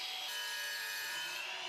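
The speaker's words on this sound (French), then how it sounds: "vous pouvez aisément scier ces lattes sur mesure avec une tronçonneuse" Wooden battens being sawn to size while fitting out a bathroom floor and walls, a steady rasping stroke of the blade through the wood that runs continuously and close, with no talk.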